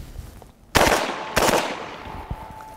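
A UMP45 fires incendiary rounds at steel from close range: two loud, booming shots about half a second apart, each with a harsh metallic crack and a ringing tail that hums on afterward, with no voices.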